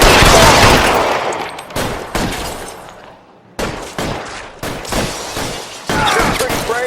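Shootout gunfire in the video game L.A. Noire: loud, close bursts of shots and rapid fire that come in repeated volleys separated by short gaps.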